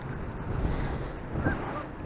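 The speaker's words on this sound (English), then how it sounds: "Oh, it's really windy out now," Steady late-fall wind buffeting the microphone while fishing in Connecticut, a constant low rumble with gusts swelling and fading, no voices.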